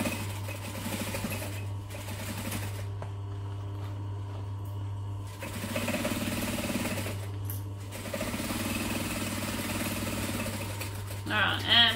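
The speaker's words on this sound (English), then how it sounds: "I'm coming up to a bulky section, so I'm going to stitch slowly." A domestic sewing machine stitches slowly through a bulky section of a fabric bag, giving a low steady hum broken by a pause and then renewed stitching, with faint talk in the background.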